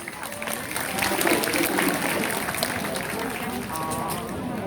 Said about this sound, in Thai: ขอเสียงปรบมือให้หน่อยครับ